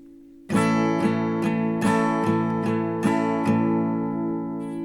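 Acoustic guitar strummed in a quick, even rhythm, bright down-and-up strokes over ringing chords, close and alone; the strumming pattern for a song.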